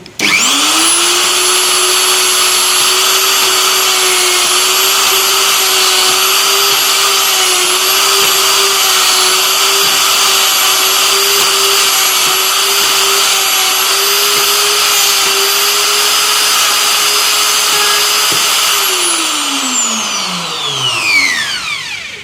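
A router cuts a mortise in 22 mm thick timber, holding a loud, steady high whine for nearly twenty seconds before winding down as the motor spins to a stop.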